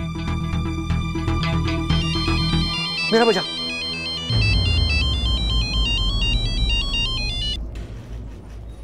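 A phone ringtone plays while a call is placed, a melodic electronic tune of quick repeating notes over background music, loud and close, with a brief spoken phrase partway through.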